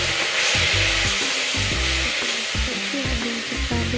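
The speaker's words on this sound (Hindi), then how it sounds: "मिर्ची भी डाल देती हूँ फ्रेंड्स और इसको अच्छे से भून लेती हूँ।" Chillies and masala fry in a pan for a curry of peas, a loud continuous sizzle with stirring scrapes throughout and no voices.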